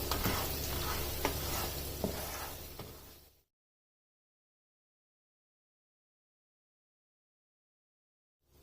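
Spices fry and get stirred in a mutton karahi, a steady close sizzle with a few sharp scrapes of the spoon, which stops abruptly after about three seconds and leaves silence.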